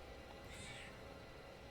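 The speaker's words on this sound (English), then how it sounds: "kitty cat, what are you doing?" A house cat meows once, faint and brief, against a low steady background hum.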